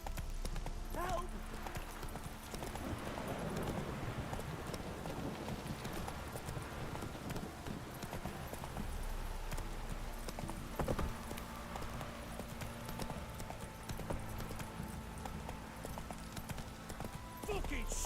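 Roach the horse galloping in The Witcher 3 video game, a quick steady clip-clop of hooves running on throughout, with a player's voice speaking over it.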